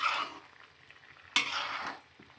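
Food cooking and being stirred in a pan: a soft sizzle with scraping strokes of a utensil, one sharper clack of metal partway through, close and moderately quiet, with no talking.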